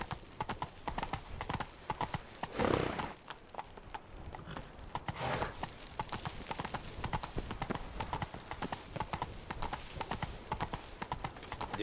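Roach the horse gallops in The Witcher 3, rapid rhythmic hoofbeats pounding close and steady the whole way, with a brief snort or whinny early on and no talk.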